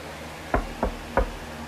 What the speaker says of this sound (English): Without warning, you heard a knock